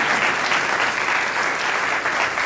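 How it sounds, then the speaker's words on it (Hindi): A church congregation applauds together, a loud, dense and steady clatter of many hands clapping with no speech over it. "पर्सनली सब ताली बजा कर"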